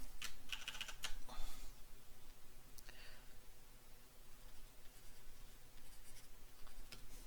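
Pen strokes as math expressions are written on paper: soft, close scratching in short clusters near the start and again around the middle, then quieter strokes, over a low steady hum.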